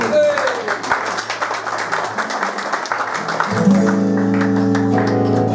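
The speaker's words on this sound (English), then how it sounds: "Give him a round of applause." Pub audience applauding a guitar accompanist before a blues number, a busy spatter of claps that gives way midway to sustained instrumental tones as the music starts.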